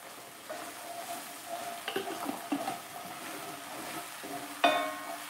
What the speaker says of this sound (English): while all this is frying up, you should start smelling that ginger and garlic